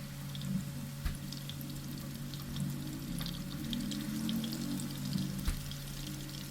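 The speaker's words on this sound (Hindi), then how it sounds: "थोड़े थोड़े करके ही हम कबाबों को फ्राई करेंगे।" Seekh kebabs frying in oil in a pan, a steady close sizzle with scattered crackles and pops, alone with no talk.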